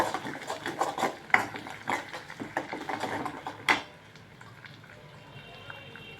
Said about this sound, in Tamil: ஊற்றிட்டு கிளறி விடுங்க அடிப்பிடிக்காத அளவுக்கு நல்லா கிளறணும்